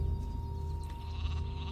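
Sheep bleating in the video game Gothic 2 Night of the Raven, a short bleat over a steady humming game soundscape with background music.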